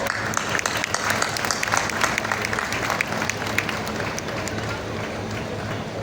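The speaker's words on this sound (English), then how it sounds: "A huge round of applause, ladies and gentlemen." Crowd applause at a Google Cloud AI Hub groundbreaking ceremony in Visakhapatnam, India: dense, sustained clapping from a large audience, steady and loud throughout with a broad outdoor wash.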